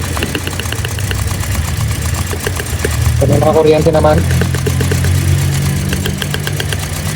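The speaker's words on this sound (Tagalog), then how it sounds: "Kung mapapansin niyo, maririnig niyo na palyado." A Toyota Vios Dual VVT-i engine misfires at idle with a rough, uneven, stumbling rhythm, close by and steady, while someone talks over it.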